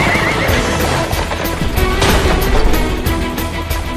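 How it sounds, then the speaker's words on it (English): Horses neigh and whinny loudly close by while hooves clip-clop beneath, pulling a horse-drawn carriage in an animated action scene, with crashing background sound and no voices. "This is a horse-drawn carriage."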